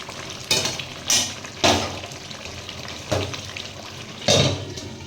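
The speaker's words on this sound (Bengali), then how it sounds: "আর এইভাবেই কষিয়ে যেতে হবে, এই জলেই কিন্তু মাংস সিদ্ধ হয়ে যাবে।" Meat simmers and fries in a pan with little water, a steady low sizzle broken by several louder scraping stirs, close up with no talk.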